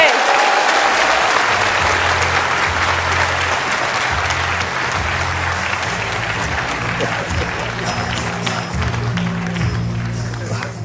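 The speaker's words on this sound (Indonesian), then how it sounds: "Tepuk tangan sekali lagi Ibu Megawati." Sustained applause from a television talk show studio audience welcoming a former president as a guest, loud and dense throughout, with music and a host's voice faintly underneath.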